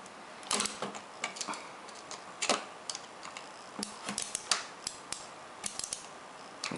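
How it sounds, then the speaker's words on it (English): A screwdriver tightens the bolt of the ball-top knob on a Hori Real Arcade Pro 3 arcade joystick, giving a series of close, sharp ticks and small clicks spaced irregularly. "and tighten the bolt of the ball top."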